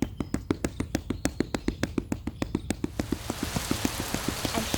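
Quick, steady tapping that imitates rain, at first distinct and rhythmic, then blurring into a dense, hissing patter like a downpour.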